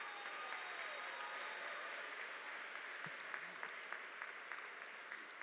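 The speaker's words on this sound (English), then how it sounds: "Let's give him another round of applause" Steady audience applause fills a university spring commencement ceremony, a dense, even clatter of many hands at moderate, slightly distant level with scattered louder claps, continuing throughout.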